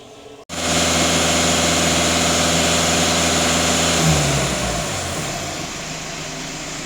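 A VW Golf 2.0 TDI diesel engine fires up on a cold start after its emissions system is cleaned, then runs with a loud, steady idle and a slight drop in pitch near the end.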